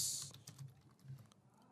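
Someone types form entries on a computer keyboard, producing quick, close, irregular key clicks that thin out toward the end, with no talking.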